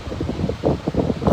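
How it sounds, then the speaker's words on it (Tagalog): An electric fan runs steadily close by with a constant breathy whir, the airflow sounding rough and gusty like wind across a microphone. "Maingay ba yung electric fan guys? Sabihin nyo lang kung maingay yung electric fan."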